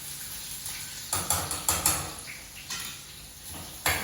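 Onions fry over a low flame in a pan with garlic, a soft steady sizzle running underneath while a utensil scrapes and clanks against the pan in several sharp knocks.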